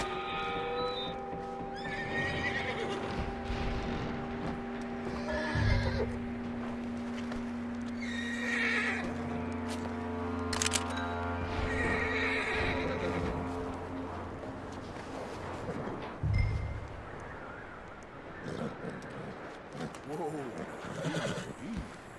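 A horse in the video game Red Dead Redemption II whinnies loudly and snorts amid slow hoof clops, heard over steady ambient tones and a low engine-like drone.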